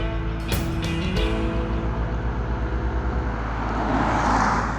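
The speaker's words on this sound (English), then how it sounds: "let's go driving in the CX-30" 2020 Mazda CX-30 driving along, a steady engine and road rumble with a few door or body thumps near the start and rising tyre and wind noise toward the end.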